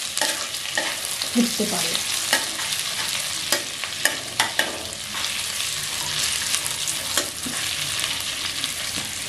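Whole spices such as cinnamon, cardamom and cloves frying in hot oil for Bengali sweet polao, with steady sizzle and repeated sharp scrapes and knocks of stirring, brief faint speech at one point.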